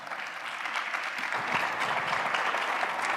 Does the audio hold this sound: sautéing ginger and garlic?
no